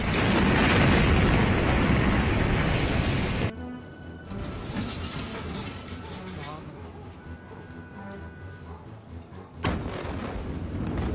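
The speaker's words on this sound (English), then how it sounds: "A massive explosion sent shockwaves tearing through the Lebanese capital" Massive explosion at the Beirut port in Lebanon's capital, heard as a loud roaring broadband blast that decays into a long rumbling wash, with a second surge near the end.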